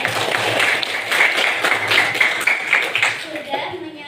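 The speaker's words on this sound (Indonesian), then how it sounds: "Tepuk tangan buat Mbak Gita" A class claps for a student named Gita after her correct answer in an Indonesian lesson, brisk overlapping handclaps at close range that taper off toward the end, with voices underneath.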